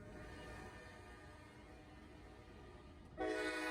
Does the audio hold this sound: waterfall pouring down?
no